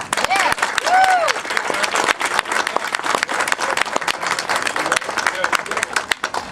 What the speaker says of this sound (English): A round of applause for our great governor.